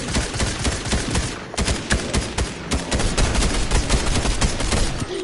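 Rapid gunfire in Fortnite aimed at an enemy-built base, dense bursts of close, loud shots in a fast irregular rhythm, with one brief pause, and no talking.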